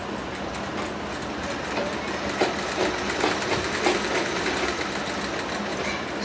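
A sewing machine runs continuously while stitching a belted blouse, a steady fast mechanical whir with rhythmic clicking of the needle, close and moderately loud with no break.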